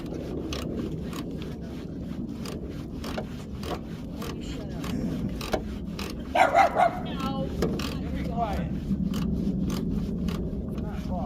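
A dog barks repeatedly in short, sharp bursts close by, scattered through a stretch of people talking.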